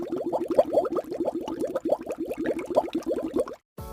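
Pakoras fry in hot oil in a kadai, giving a fast, steady run of bubbling pops close by for several seconds before cutting off abruptly.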